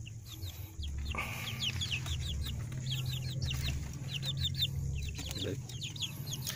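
Several seven-week-old joper chickens cluck and chirp steadily in a continuous chorus over a low background hum, with no one speaking.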